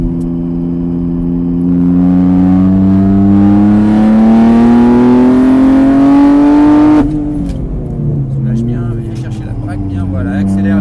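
Race car accelerating on a circuit at Mireval, a loud, close engine note climbing steadily in pitch before a sharp drop at a gear change or lift, then building again; an instructor speaks over it.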